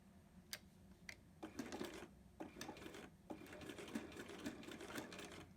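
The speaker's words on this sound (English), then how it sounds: "you're going to want to back stitch just along that same line that you just sewed on" A sewing machine back-stitches along a seam on a zipper pouch, running in close, rapid bursts of stitching with short pauses between them and no voices.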